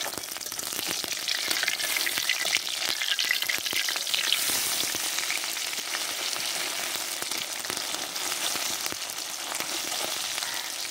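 Chepa shutki (dried fish) leaf pakoras fry in hot oil, a dense, steady close-up sizzle with crackling bubbles running continuously and evenly, with no talking.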